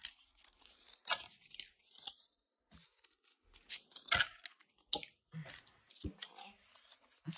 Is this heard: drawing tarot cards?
yes